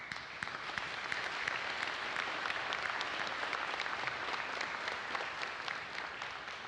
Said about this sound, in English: So we want to give them a round of applause too.